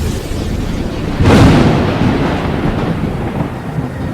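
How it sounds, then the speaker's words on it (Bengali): A single deep rumble of thunder used as a sound effect in a spoken story, bursting in loudly and then rolling away in a long fading tail, with no voices. "হঠাৎ জানালার বাইরে বজ্রপাত"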